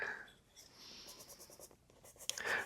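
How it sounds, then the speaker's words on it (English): Watercolour pencil scratches across paper in short, soft strokes, close and quiet, with brief pauses between bursts of shading. "Maybe I could go in with a little bit of watercolour pencil and add my green in that way."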